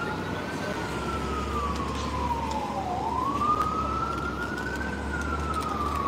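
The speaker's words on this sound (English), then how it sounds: "I think I hear an ambulance actually." An ambulance siren wails on a downtown Brooklyn street, a single rising and falling tone sweeping slowly and steadily, moderately distant above a constant low rumble of city traffic.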